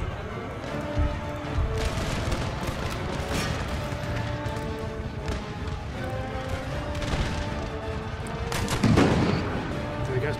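Cannon canister shot firing in the video game Empire: Total War, booming artillery and scattered musket fire across a noisy battlefield, one louder blast near the end, with a voice talking underneath.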